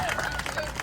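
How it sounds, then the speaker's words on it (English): Spectators at a Pennsylvania championship competition applaud, a dense wash of clapping and crowd noise that holds steady through a brief burst. "Big, big round of applause."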